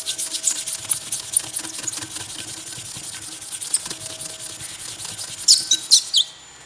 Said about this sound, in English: Give it a final buff.